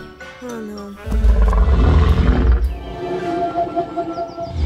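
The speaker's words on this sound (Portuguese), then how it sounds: "É um rugido de um T-Rex." A T-Rex roar sound effect in a children's dinosaur park adventure: a huge, deep roar swells in after a short spoken exclamation, holds loudly for about two seconds, then fades into lower rumbling growls.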